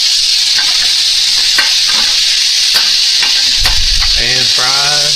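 Pork loin chops sizzle steadily in a dry pan, a loud continuous fry with occasional sharp crackles and spits, and a brief low thump near the end before a short voice-like tonal sound.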